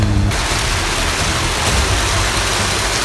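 Heavy rain falls in a downpour, making a loud, dense, continuous hiss and patter close by, with a low rumble underneath and no voices.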